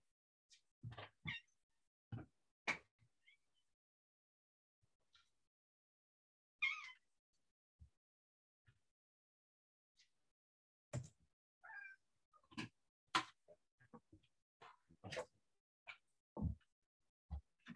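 An indoor pet cat gives scattered short meows and chirps over a long quiet stretch, close and fairly soft, some calls coming in quick bursts with long silent gaps between them.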